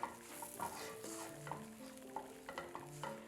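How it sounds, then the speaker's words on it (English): A spoon scrapes a thick split pea mixture off the bottom of a pot as it cooks, producing soft, repeated scraping strokes at a quiet level with faint background music. "Just scraping up the bottom to make sure that it doesn't stick."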